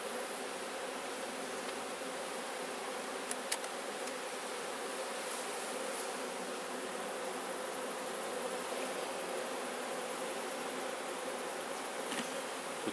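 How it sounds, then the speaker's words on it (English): Bees buzz around an open beehive in a yard, a continuous soft drone from many insects close by, with a few brief louder passes, and no talking. "You kind of just see the bees all just flying around."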